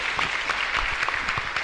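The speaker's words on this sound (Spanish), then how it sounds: "Fuerte aplauso entonces" A congregation applauds during a Catholic Mass at a parish in Asunción, a strong, even burst of many hands clapping close and loud for a brief stretch, without voices.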